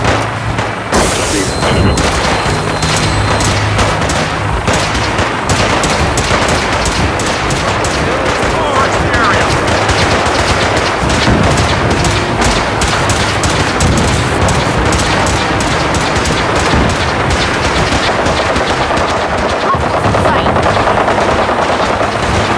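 Dense battle gunfire in Fallout 4 at Bunker Hill: rapid machine-gun bursts and single shots crackle almost nonstop alongside occasional booms, loud and close, with voices speaking intermittently underneath.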